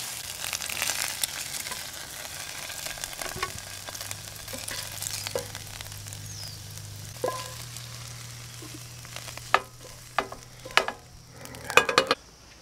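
Scrambled eggs frying in a pan over an off-grid breakfast fire, a steady soft sizzle with occasional stirring scrapes and light clinks of a utensil, moderately close and without talk.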